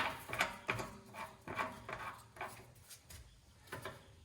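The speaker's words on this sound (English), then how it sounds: "I like to start my lugs by hand." Lug nuts are spun by hand onto a Mazda 3 wheel stud, giving faint, repeated light metallic scrapes and clicks in an irregular rhythm, close and quiet, with no voices.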